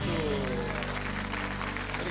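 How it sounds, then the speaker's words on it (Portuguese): A church congregation applauds the Holy Spirit during a Catholic service, producing steady, dense clapping that fills the whole moment at an even loudness, with voices mixed in. "Vamos aplaudir o Divino Espírito Santo"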